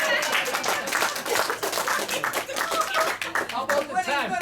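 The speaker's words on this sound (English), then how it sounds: "How about a nice round of applause?" Round of applause at a 60th birthday party, a brisk burst of many hands clapping close by, with voices and a child's chatter mixed in beneath the claps.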